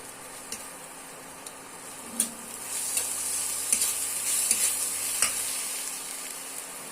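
Turmeric, coriander and cumin powder fry in a pan for a cauliflower and potato curry, giving a steady soft sizzle with light periodic scrapes and taps from stirring.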